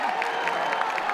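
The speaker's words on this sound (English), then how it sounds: "Listen to this crowd on 3-1." Stadium crowd at a college baseball game between East Carolina and North Carolina, a steady roar of cheering and applause, broad and continuous with brief whistles rising over it.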